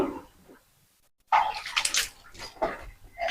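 Hot water pours splashing into a container while tofu is being made, with a soft trickle, a brief pause, then a louder, bubbling gush that swells and fades in waves.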